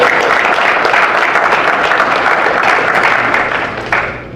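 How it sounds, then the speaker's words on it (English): A crowd at a grant kickoff event applauds in a dense, steady burst of clapping that stays loud throughout, then fades slightly at the end. "I think she deserves another round of applause."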